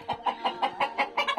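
Farm laying hens, struggling in hot weather, cluck in a rapid run of about eight short, evenly spaced calls, close and clear with little else around.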